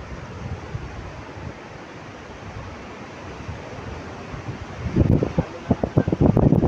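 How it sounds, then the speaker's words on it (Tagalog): Strong gusting wind buffets the microphone over a steady roar of rough sea, with heavier surges of waves breaking louder and closer toward the end. "Hindi na naman kapalaot kasi mahangin, tas ano ba yung dagat, maalon."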